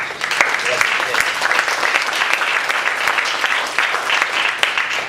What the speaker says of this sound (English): I really do believe that they deserve a big round of applause